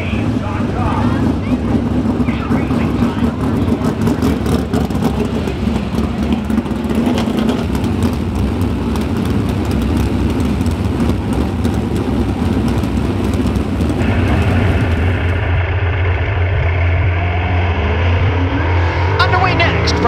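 Sprint car engines roar around a dirt track at 81 Speedway, a loud, dense racing drone heard at a distance, with a voice talking over much of it and a rising, swelling sweep toward the end.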